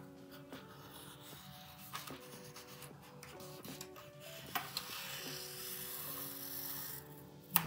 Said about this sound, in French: Vous venez dessiner le contour de votre rabat.